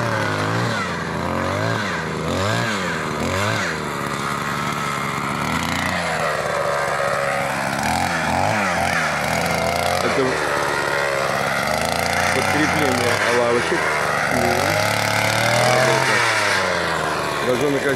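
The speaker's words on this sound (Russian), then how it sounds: "Газонокосилка, переделанная в газонобурилку." A lawn mower engine converted into a ground drill drones steadily throughout at a tennis court, rising and falling in pitch as it revs, loud and close, with bursts of louder revving early on.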